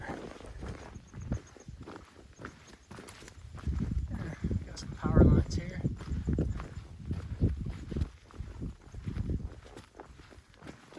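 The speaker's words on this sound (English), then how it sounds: "I'm walking, putting some miles on." Steady footsteps crunch along the Appalachian Trail between Erwin and Carvers Gap while someone talks over them.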